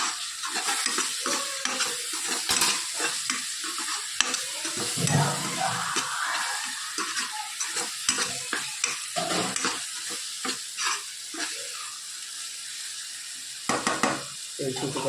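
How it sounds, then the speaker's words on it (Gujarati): Onion-tomato masala with chili, garam masala, turmeric and salt being stirred and fried in a pan: a steady soft sizzle broken by repeated scraping and clinking strokes of a spoon, fairly quiet and close. "સરસ બધું મિક્સ કરી લઈએ."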